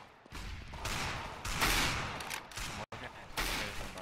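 Gunfire in a Counter-Strike match, a steady burst of shots and game effects running loud for about four seconds with one brief dropout near the end.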